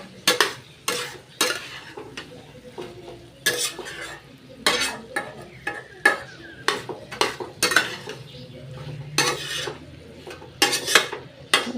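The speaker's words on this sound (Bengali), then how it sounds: "মশলা দিয়ে নেড়ে তারপরে একটু জল দিয়ে দেবো।" A curry with spices being stirred in a cooking pan: a spoon scrapes against the pan in a steady series of short, close strokes with a faint sizzle between them. No voices.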